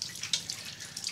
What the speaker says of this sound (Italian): Mi vado a inumidire un attimino il viso per inglobare ancora acqua nel secondo passaggio.